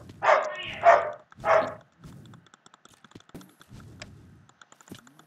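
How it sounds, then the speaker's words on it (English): A dog barks three times, loud and close, in quick succession, followed by scattered soft keyboard clicks and a quiet room. "It's my dog."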